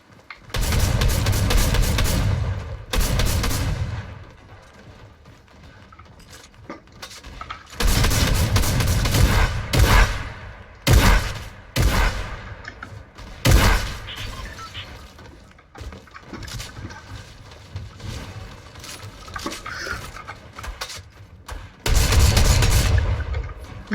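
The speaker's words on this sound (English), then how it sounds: "Give me a drum shotgun." Drum shotgun firing in a video game: loud, heavy blasts come in several bursts of repeated shots, with quieter stretches between them and a final burst near the end.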